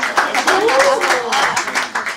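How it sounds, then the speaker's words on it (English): The audience at a health magazine cover launch claps in a scattered, uneven rhythm while a voice talks over it. "Please huge round of applause."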